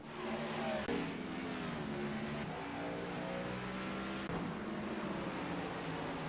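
Chevrolet Silverado race truck engine in iRacing at Phoenix International Raceway, a steady droning roar with shifting pitch as it passes, dipping briefly at gear changes, loud and alone without talk.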